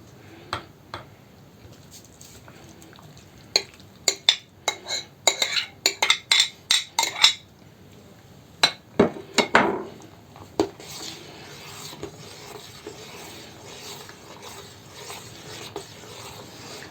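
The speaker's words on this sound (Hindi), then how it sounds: "जैसे जैसे फ्रूट मिलाते जाएंगे हमें हिलाना पड़ेगा, और हिलाते समय ये जो क्रीम है स्वतः ही मिक्स हो जाएगी।" A spoon stirring chopped Alphonso mango into fruit cream in a bowl, a run of sharp metallic clinks and scrapes in the middle, then softer wet mixing sounds, fairly close.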